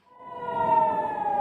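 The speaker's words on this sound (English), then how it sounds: "air raid sirens early Sunday morning sent residents scurrying toward bomb shelters" An air raid siren sounds in Haifa, northern Israel, early on a Sunday morning: a single steady, wailing tone rising in from quiet and holding, heard alone without voices.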